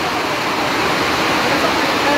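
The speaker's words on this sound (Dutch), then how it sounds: "De hele put loopt over." Loud, continuous rush of water gushing from an overflowing drain pit at an airport, a broad steady roar close by that fills the whole stretch without pause.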